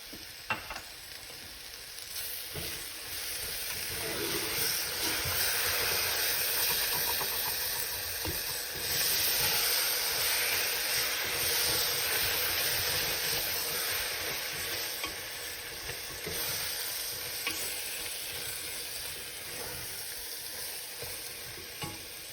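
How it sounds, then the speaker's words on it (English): Curd hitting a hot pan while Chettinad chicken fries, giving a steady, loud, broadband sizzle that swells and holds for the whole stretch with faint stirring scrapes. "going to put the curd."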